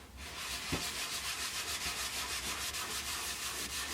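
A cloth rubs and buffs a piece of weathered, up-cycled pallet wood in steady back-and-forth strokes, a soft close scuffing that repeats rhythmically throughout with no speech.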